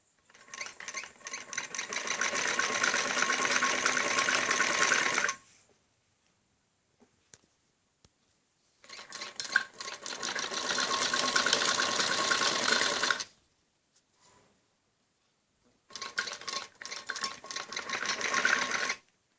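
A sewing machine stitches the neckline of a kameez in three bursts of fast, even mechanical whirring and ticking, each several seconds long and separated by quiet pauses, heard up close with no talking.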